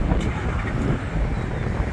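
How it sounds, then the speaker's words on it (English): Steady wind buffets the microphone on an island shoreline, a continuous loud rumbling roar with gusty surges throughout and no voices. "A little windy."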